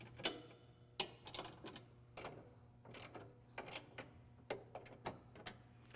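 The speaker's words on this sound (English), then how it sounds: "I am going to go ahead and tighten the upper parts of the mounts so that they are secure" Bolts on Toyota Tacoma LED light bar mounts get tightened with a ratchet, giving quiet, irregular clicking bursts over a low steady hum, close by and soft.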